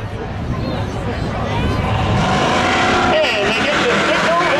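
A pair of Chevy race cars idling and revving at the drag strip start line at Seekonk Speedway, a loud rumbling roar that builds steadily while an announcer talks over it.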